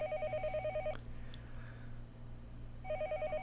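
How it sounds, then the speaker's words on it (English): A telephone line tone in the Higurashi visual novel sounds in two clear pulsed bursts, the first and last second, with a quiet gap between them over a low steady hum. "listening to the dial tone"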